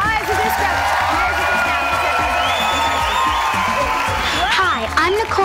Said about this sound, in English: Tyler and Henry, big round of applause.